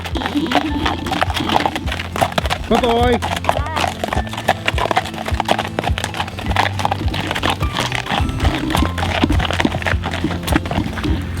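Hooves clip-clopping at a walking pace on a hard surface, steady and nearby, with people talking briefly over them.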